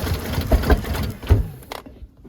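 A Saab 900 engine cranks and sputters with rough, uneven thumps and low pops backfiring through the airbox, several irregular bursts close by before it cuts out into quiet.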